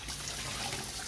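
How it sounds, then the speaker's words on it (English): Tap water runs steadily into a sink while a plate is rinsed, a close, continuous splashing rush with no pauses. "So I actually like rinsing my plate."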